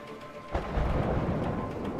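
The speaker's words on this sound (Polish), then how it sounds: "No, jak będzie burza." A deep thunder rumble during a storm in the video game A Way Out, starting with a sudden crack and rolling on as a loud, sustained low roar.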